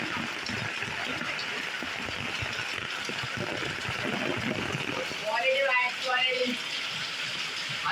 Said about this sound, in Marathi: एकदम मुसळधार पाऊस. खतरनाक पाऊस आला पडत आहे.